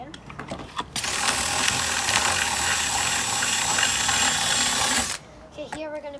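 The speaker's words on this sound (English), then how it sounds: "I'm gonna trim this thing using my drill." Power drill whirs loudly and steadily for about four seconds while trimming a part of a handmade toy plane, then cuts off abruptly, followed by brief handling noises.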